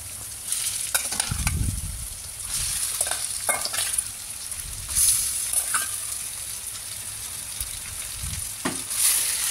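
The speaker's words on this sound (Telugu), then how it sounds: "ఇలా చికెన్ మొత్తం వేసి మంచిగా ఫ్రై చేసుకోవాలి." Chicken being fried and stirred in a pan, Indian style: a constant close sizzle broken by repeated scraping and clattering strokes of a utensil against the pan, with louder bursts every second or two and no talking.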